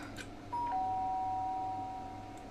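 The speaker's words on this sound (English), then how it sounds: "Sharp sound of the doorbell pierced my sleepy haze and pulled me back to the real world." A two-tone electronic doorbell chime in the video game Danganronpa: Trigger Happy Havoc rings once, clear and sustained, over a quiet background.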